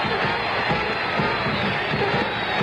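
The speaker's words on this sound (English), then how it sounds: "The fans cheering for Pete." Basketball crowd cheering for Pete Maravich in an arena: a steady, dense roar of fan noise holds at a constant level throughout, with no distinct breaks.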